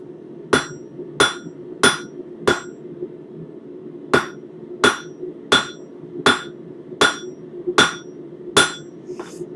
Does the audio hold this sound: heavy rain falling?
no